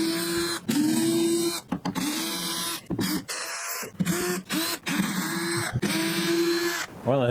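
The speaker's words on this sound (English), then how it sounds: "you'll get to see me take the screws out of it" A power driver whines in repeated short bursts while backing screws out of a boat deck panel on a DIY backyard boat kit, each run pausing briefly between screws, close and loud.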